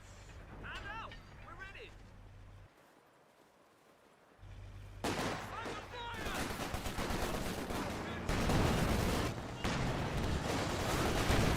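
Anti-tank gun fire in the strategy game Company of Heroes, a run of loud, overlapping gunshots and battle blasts with some gaps, mixed under game ambience and a voice talking.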